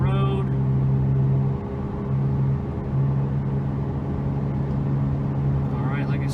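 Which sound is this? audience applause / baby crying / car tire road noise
car tire road noise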